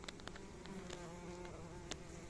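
Honeybees buzz around a hive entrance in Istanbul, with faint overlapping wing drones and short passes of individual bees flying close by, quiet and without talk.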